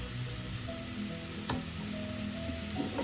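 Papaya thoran frying in a covered pan, the grated papaya sizzling steadily, with a soft stirring scrape near the middle and another at the end.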